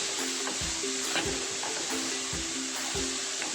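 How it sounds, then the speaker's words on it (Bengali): Carrot vermicelli frying lightly in ghee, with a steady sizzle and a few soft, regular stirring scrapes against the pan. "ঘিয়ে হালকাভাবে কিছুক্ষণ ভেজে নেব।"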